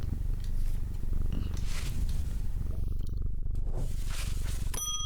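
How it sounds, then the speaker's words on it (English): A cat purrs continuously as it is petted in the video game Strange Antiquities, a close, steady low rumble with a brief chime near the end. "Pet the cat."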